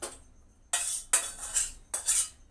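A metal pot of fish curry is lifted off a stove, giving three short, bright clanks and scrapes of metal on metal spaced about half a second apart, close by and with no talking.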